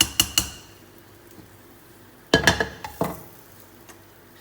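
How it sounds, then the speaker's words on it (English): A spoon clinks and scrapes against a metal pot while yellow dal curry with potato and carrots is stirred, in short clustered bursts of metallic knocks with quiet gaps between them. "So we just stir this."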